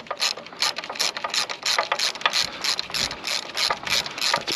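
A ratchet wrench loosens the last bolt on a Fordson Super Major tractor during engine removal, giving a fast run of close, crisp clicking pawl strokes in an even rhythm.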